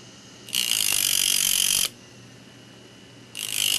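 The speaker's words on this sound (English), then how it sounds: "what you're doing is grinding on the metal" A small stone setting bur, a tiny jeweler's cutting tool, is sharpened one tooth at a time on a grinding wheel. Two bursts of steady, loud high-pitched grinding are heard, one about 1.4 seconds long and a second starting near the end, with a quieter pause between them and no talk.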